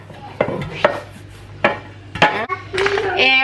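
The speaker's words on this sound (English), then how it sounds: "I'm gonna like grease the mold" Clattering of a metal bread tin being handled and greased with vegetable oil for a multiseed sourdough tin loaf, a few sharp close knocks and scrapes with a brief voice in between.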